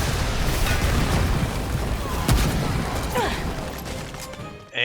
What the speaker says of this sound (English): Here comes that scorched earth attack again.